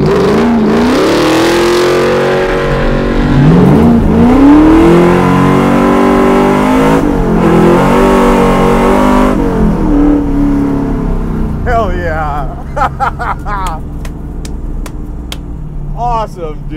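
A hand-built 1970 Ford Mustang with 625 hp revs hard and pulls away, its loud engine note rising and falling through several gear-like sweeps before fading, with voices chatting near the end.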